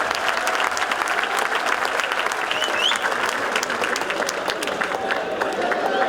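Audience at a comedy show in Dubai bursting into loud, dense clapping that holds steady throughout, with a few voices calling out over the applause.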